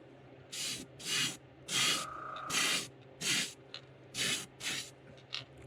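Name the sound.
spraying pearl paint coat onto fishing lure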